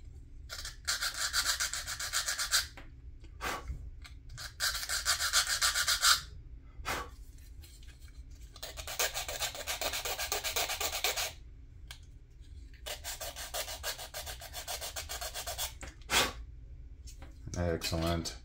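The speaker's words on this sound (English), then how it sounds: "So those are all sanded." Plastic parts for a 1/72 scale Italeri Panzer IV Ausf. F2 tank model being sanded in repeated rasping bursts of a few seconds each, close and fairly loud, with short pauses and a brief voice near the end.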